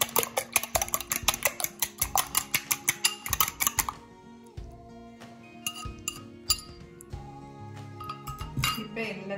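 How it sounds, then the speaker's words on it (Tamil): Eggs being beaten for banana raisin muffin batter, a fast steady run of clinking strokes against the bowl that stops partway, followed by scattered clinks and kitchen clatter. "இப்போ முட்டையை வந்து பீட் பண்ணி இது கூட வந்து நம்ம ஆட் பண்ணிக்கலாம்"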